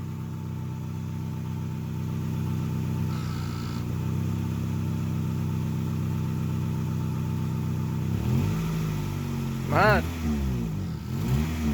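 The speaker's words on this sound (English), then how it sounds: "Now my dad's just gonna give it a little bit of gas so you guys can hear it." A project car's engine idles with a low rumble, then revs in a few sharp rising and falling bursts as gas is given, and a voice calls out briefly near the end.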